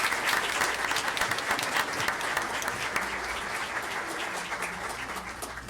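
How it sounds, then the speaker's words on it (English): An audience at a school district board meeting claps steadily for a third-grade student being honored, a dense, sustained round of applause that fills the room and tapers slightly toward the end. "How about a round of applause for Imran?"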